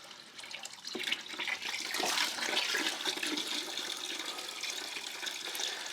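Water pours steadily into a cup set on the ground, a continuous splashing rush that builds after a softer start and holds at an even level throughout, close by.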